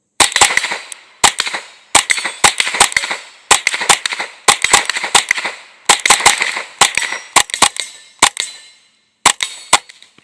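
Sharp .22LR rifle shots from a Smith & Wesson FPC 22 folding rifle, firing a mix of subsonic and supersonic rounds outdoors, ring out loud and close in rapid irregular strings of cracks with brief pauses.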